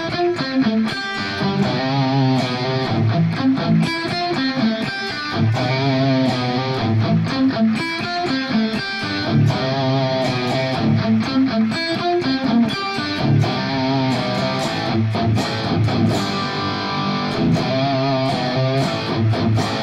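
Electric guitar played with a little delay and plate-style reverb on a riff, chugging palm-muted notes and chords ringing out steadily and loud throughout, alone without talk.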